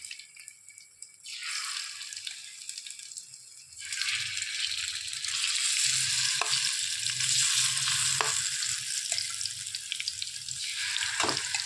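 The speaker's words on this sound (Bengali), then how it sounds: "তেলটা গরম হয়ে এসেছে। এখন আমরা এই বেসনের ব্যাটারটার মধ্যে করলাগুলো ডুবিয়ে রেখেছিলাম" Bitter gourd slices coated in gram flour batter fry in hot oil, a steady bright sizzle that starts faint, swells loud after a few seconds and holds, with a few sharp ticks and pops.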